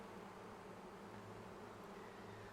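A swarm of honey bees gathered in a box hums steadily and continuously, a dense, faint buzzing drone with no voices.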